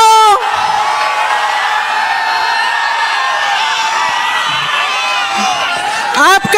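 A large crowd at a political rally in Bihar cheers and shouts in a steady, loud roar that fills the scene, with a speaker's voice briefly heard at the start and end.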